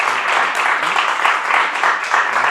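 An audience claps for a performer at a show, a dense continuous patter of many hands at close range lasting a couple of seconds.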